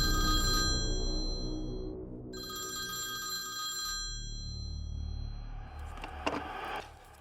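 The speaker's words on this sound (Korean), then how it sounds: "한 기자에게 정체불명의 제보 전화가 걸려온 것입니다" An old-style telephone bell rings in two loud bursts at close range, with a gap between them, followed by rustling and the clatter of a handset being picked up.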